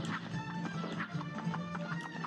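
A knight chess piece in the Cuphead DLC video game moves with a rapid horse clip-clop of hoofbeats, an even clattering rhythm over constant game music.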